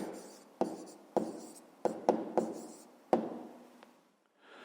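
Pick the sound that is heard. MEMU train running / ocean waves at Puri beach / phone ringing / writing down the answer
writing down the answer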